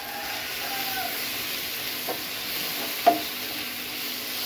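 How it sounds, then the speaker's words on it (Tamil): Tomatoes sautéing in a frying pan while being stirred, a steady low sizzle and hiss running throughout, with a couple of faint scraping stir knocks near the middle. "இப்போ இந்த தக்காளி சேர்த்து வதக்கலாம்."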